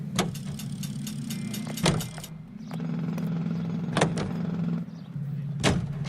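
Car driving in the 1940s Los Angeles crime game L.A. Noire: a steady low engine drone runs throughout, broken by a few sharp door-like clicks and thumps at intervals, with no talk.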